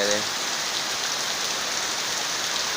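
Heavy rain pours down in a steady, dense hiss that stays constant and fairly loud throughout.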